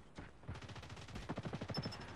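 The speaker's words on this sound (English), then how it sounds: "Who's shooting at me?" Rapid automatic gunfire in the Call of Duty video game with the BK57 rifle, a fast train of sharp cracks building in density after a brief lead-in, fairly faint in the mix.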